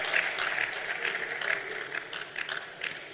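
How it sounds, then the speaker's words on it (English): Audience at a Nigerian Immigration Service 60th anniversary celebration applauding a retired official as he approaches the platform, steady crowd clapping throughout, moderately distant. "Please shall we put our hands together for him as he approaches the platform."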